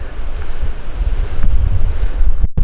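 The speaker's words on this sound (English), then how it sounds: "We're quite windy." Strong wind in England buffets the microphone in gusty, roaring bursts, with a low rumble throughout and a brief drop near the end.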